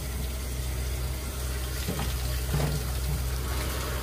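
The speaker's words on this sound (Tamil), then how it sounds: "குடலை கட் பண்ணோன்னே நல்லா தண்ணியில் போட்டு வாஷ் பண்ணுங்கள்" Water runs steadily from a tap while cut trevally fish is washed, a continuous close splashing flow with a few light knocks and sloshes, no talking.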